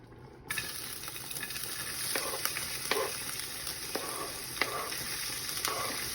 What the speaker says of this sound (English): So I've added some onions to the pot, to the oil, to the heated oil